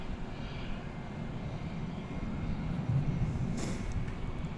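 An airliner takes off from runway 18 left at DFW Airport at night, giving a steady, broad engine roar that holds at moderate distance and swells slightly toward the end.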